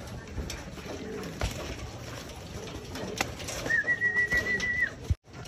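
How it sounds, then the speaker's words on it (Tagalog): Pigeons coo softly nearby, low throaty murmurs amid faint rustling, with a sharp thump near the end. "Ito mga kalapati, ayan o."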